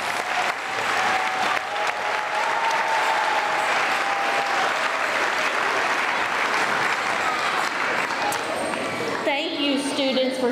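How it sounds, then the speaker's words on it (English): Loud, sustained applause and cheering from an elementary school crowd at an awards ceremony honouring last year's fifth graders, a dense continuous roar of clapping that tapers near the end as a voice begins. "And one more round of applause for last year's 5th graders."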